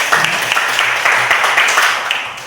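A classroom of students claps together in a school lesson, a loud, dense burst of applause lasting a couple of seconds, close and steady before tapering off.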